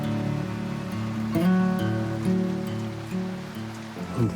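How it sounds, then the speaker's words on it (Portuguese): Rain falls steadily at a boatyard where a sailboat is under repair for osmosis, a continuous wash of drops patter across hard surfaces with no voices over it. "Chuva de novo, cara."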